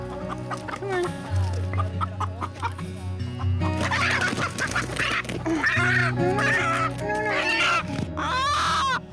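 A hen clucks close by in a backyard flock, with a steady run of clucks and murmurs, and other fowl cackle and squawk more loudly in the second half.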